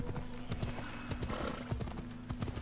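Horse hooves clip-clop in a steady trotting rhythm in the Assassin's Creed Odyssey video game, with a brief neigh mixed in, loud and close throughout.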